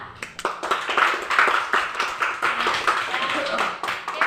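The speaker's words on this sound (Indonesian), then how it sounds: "aplaus untuk Putra." Students in a classroom clap for a classmate, a quick scatter of close hand claps that runs on and off throughout while people talk over it.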